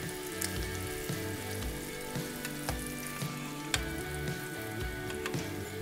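Pieces of calamari fry in gently bubbling oil, producing a continuous crackling sizzle with scattered sharp pops, heard up close over a low, tonal musical backing, with no talking.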